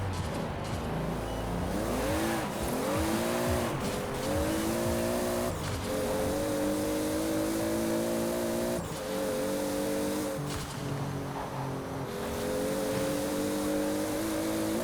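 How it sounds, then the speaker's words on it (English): A 900-horsepower Toyota Supra from Fast and Furious is driven in Forza Horizon 4, its engine rising and falling through revs and gear shifts, with brief tire squeal, sounding close and continuous. "It's finally time to drive Brian's Supra."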